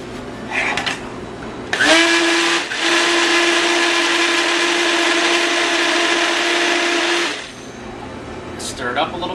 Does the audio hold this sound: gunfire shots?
no